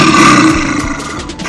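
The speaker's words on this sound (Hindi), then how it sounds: "काला भालू को भी बच्चों भालू ही बोला जाता है और इसकी आवाज़ कुछ इस तरह की" A black bear gives a loud, rough, sustained growl close up, a deep guttural rumble with a raspy texture that fades slightly at the end.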